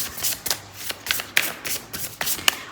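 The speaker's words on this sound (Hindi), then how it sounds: "ऑरिकल से फाइनल कार्ड्स ले रही हूँ" Oracle cards shuffled by hand in a quick series of close, crisp riffling swishes and taps, about five bursts in under three seconds, with no voice.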